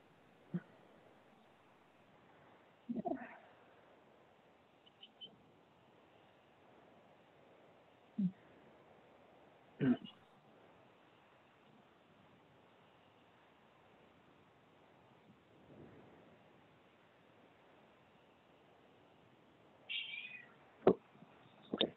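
A domestic cat meows several times in a quiet room, with short, fairly faint calls spread out and long silent gaps between them.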